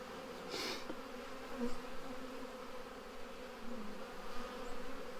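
Honeybees buzzing around an Apimaye hive as they are moved into it in late November, a low, steady drone with a few louder passes of individual bees nearby, faint overall.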